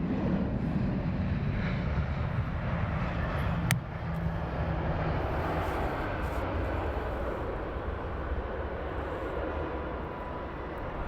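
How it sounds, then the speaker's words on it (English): Aer Lingus airliner arriving at London Heathrow Airport, a steady, loud jet engine roar that holds for the whole stretch with no talk over it. "Aer Lingus inbound."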